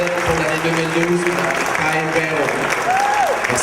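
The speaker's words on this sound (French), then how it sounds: "on a une bonne applaudissement à notre récipiendaire" An audience at a volunteer recognition evening applauds an award recipient, a busy wash of clapping heard alongside overlapping voices and a brief whistle-like tone, fairly loud and continuous.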